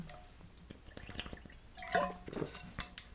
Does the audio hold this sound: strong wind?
no